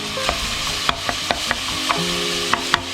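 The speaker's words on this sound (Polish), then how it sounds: "No i teraz sobie to troszeczkę podsmażam" Ingredients for a savory pumpkin soup fry in a pan with a constant close sizzle, broken by a series of sharp clicks and scrapes from stirring against the pan.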